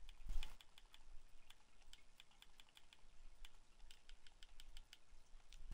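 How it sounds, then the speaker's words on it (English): Quick keystrokes on a computer keyboard, a dense run of light clicking taps in irregular rhythm, close but quiet, with no voices over it. "Can't type today, you guys."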